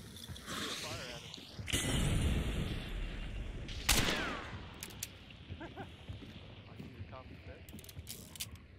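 Gunfire and mechanical clatter from the video game Hunt: Showdown, with a loud burst of shots around the middle of the clip over a noisy background, followed by scattered fainter clicks and sounds.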